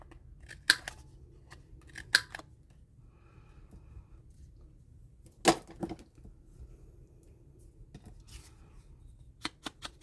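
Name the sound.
punch cutting paper corners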